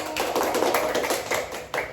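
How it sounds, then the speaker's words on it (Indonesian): Clapping from a class during an elementary-school teaching simulation lesson, brief and uneven, with a few separate claps standing out over about two seconds, close and moderately loud. "Oke, tepuk tangan dulu."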